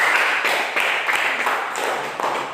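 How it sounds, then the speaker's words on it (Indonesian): A classroom of students applauds a group with dense, continuous clapping that is fairly loud and close, carrying steadily from start to finish with no talking. "Kasih aplaus dulu."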